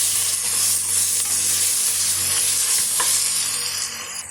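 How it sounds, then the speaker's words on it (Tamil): Ginger garlic paste sautés in a pan while being stirred, cooking for an egg biryani. A loud, dense sizzle fills the whole stretch, with scraping stir strokes and no talking. "சேர்த்துட்டு ஒரு 2 நிமிஷம் நல்லா பச்சை வாடை போகிற வரைக்கும் வதக்கி விட்டுக்கலாங்க."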